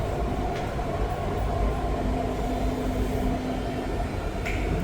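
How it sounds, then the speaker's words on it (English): An REM light metro train of eight cars running in steady motion, a continuous loud rumble of wheels and motors with a faint tonal whine inside the car and no talking. "it's still the 8 wagon REM trains"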